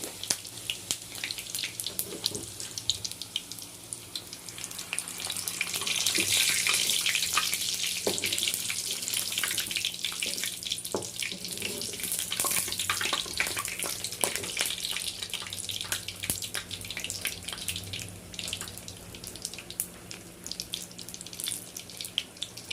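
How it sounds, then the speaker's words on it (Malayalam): Masala-filled samosas deep-frying in hot oil produce a steady, broad bubbling hiss that swells slightly midway and carries on unbroken, without speech. "നമ്മൾ സമൂസ ഓലൊക്കെ ചിറ്റി മസാലൊക്കെ മസാലൊക്കെ നിറച്ച് പൊരിച്ചെടുക്കാൻ പരിപാടിയാണ് എണ്ണൊക്കെ ചൂടായി"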